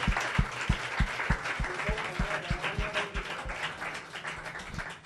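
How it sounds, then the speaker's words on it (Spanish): A church congregation breaks into applause, with hand claps mixed with a rhythmic series of strong, evenly spaced beats under the clapping that gradually thins out. "Denle un aplauso fuerte al Señor."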